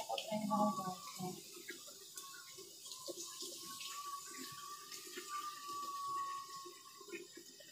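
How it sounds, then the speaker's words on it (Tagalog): Egg tofu is rinsed briefly under a running tap, a steady close stream of water splashing into a sink, with someone talking over it near the start. "Hugasan ko lang saglit."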